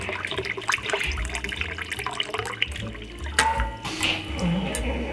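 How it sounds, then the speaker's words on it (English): Tap water running into a measuring cup for two cups of water to mix with citric acid, a steady close splashing stream filling the container. "And then I'm gonna get 2 cups of water."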